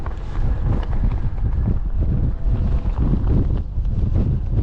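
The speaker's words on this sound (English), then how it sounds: "ridiculous stinking wind. It's bad." Gusty wind of about 20 mph with stronger gusts batters the microphone outdoors at a track day, a loud continuous low rumble with pulsing surges and no speech.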